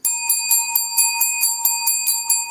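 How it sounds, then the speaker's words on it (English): A bell rung repeatedly in celebration, about ten bright metallic strikes in a steady quick rhythm, each ringing with sustained overtones, loud and close with no talk. "I'm ringing the bell for you."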